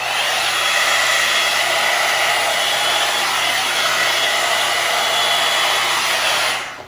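A hair dryer blows hair during a salon-style blow-out at home, a loud steady whoosh running for about seven seconds before cutting off at the very end.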